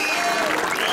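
A dense burst of applause from a crowd at a Cork County intermediate Gaelic football final, steady and loud throughout the brief moment.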